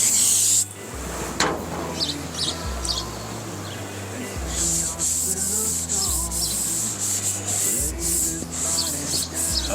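Sanding of gray primer on a Dodge D-150 truck hood, a steady scratchy rubbing repeated in strokes, close and fairly loud, with a low musical backing underneath.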